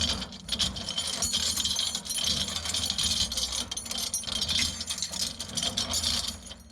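A homemade mulcher with welded washer flails is spun on its pulley, making a dense, continuous metallic rattling and clattering that surges and dips in loudness.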